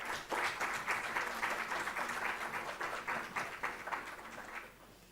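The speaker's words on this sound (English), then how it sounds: "let's welcome them all with a huge round of applause" An audience applauds to welcome panelists at an eco-tourism awards panel, a steady dense clapping that fades out over the last second.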